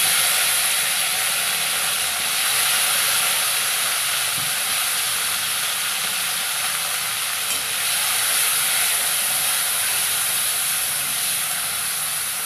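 Tomatoes dropped into hot oil with toasted five-spice (panch phoron) for a sour fish curry with potato and lentil bori give a steady, loud broadband sizzle and hiss that holds evenly throughout without talk.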